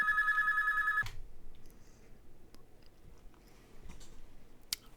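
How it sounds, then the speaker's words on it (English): A phone rings with a repeated electronic trill for about a second, then stops, leaving faint clicks and rustling in a quiet room. "And my phone rings, so give me a sec."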